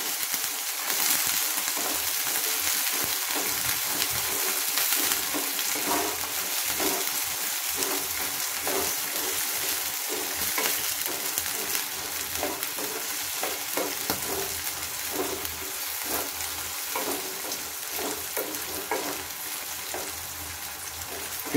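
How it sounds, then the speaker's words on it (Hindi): Green peas frying in hot oil with cumin seeds over a low flame, a close, steady crackling sizzle with occasional stirring scrapes, no talking. "एकदम हम लो फ्लेम पे अपनी मटर को हल्का सा 2 मिनट फ्राई कर लेंगे।"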